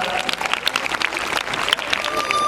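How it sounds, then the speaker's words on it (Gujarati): Audience applause at a school folk-culture program, a steady dense patter of many hands clapping at moderate volume for the whole stretch, with no clear voices over it. "તાળીઓનો ગડગડાટ"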